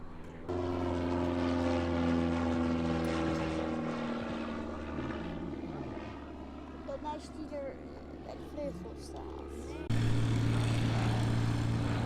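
A propeller airplane flies overhead at an air show in Domme, its engine droning loudly and steadily with shifting pitch as it passes, then swelling louder near the end.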